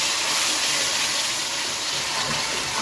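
Water poured from a vessel into a pan of sugar for zarda syrup, a steady loud gushing splash that keeps going without a break.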